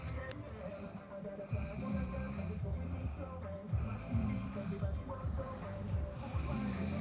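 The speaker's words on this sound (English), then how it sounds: "She says she doesn't snore," A girl snoring while asleep at a sleepover, with slow, irregular rasping breaths repeating at close range over steady room background.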